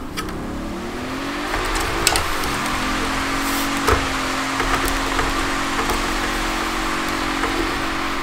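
A Land Rover Series 3, Jeep CJ5 Renegade or Bentley Bentayga engine drones steadily as the car drifts slowly in Forza Horizon 3, pitch shifting as it slides, with scattered clicks and taps over the hum.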